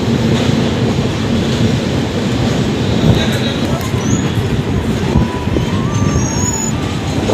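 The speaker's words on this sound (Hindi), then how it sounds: "अपनी ट्रेन निकल चुकी है अपनी दरभंगा जंक्शन के प्लेटफॉर्म 1 से।" The Puri Jaynagar Weekly Express pulls out of platform 1 at Darbhanga Junction in Bihar, a steady, close, heavy rumble of rolling wheels with faint metallic squeals rising above it toward the end.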